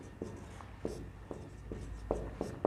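A maths solution being written by hand produces a series of distinct scratchy pen strokes at an uneven pace, close and clear, with no talking.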